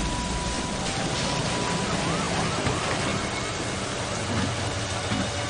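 Heavy rain falling during a violent storm, a steady, dense hiss that fills the scene without a break, loud and constant, with no voices heard.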